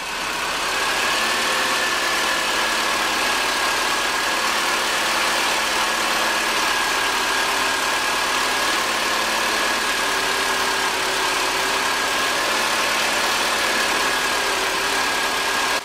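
A Mitsubishi Lancer engine idles steadily for the whole stretch, a smooth, even hum with a faint high whine running over it, close by and unchanging, with no voices.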